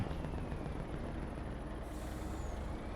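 Heavy 1,500-horsepower truck in Farming Simulator 25 straining under a loaded trailer, a steady loud engine drone that holds for the whole stretch with little change, no talk over it.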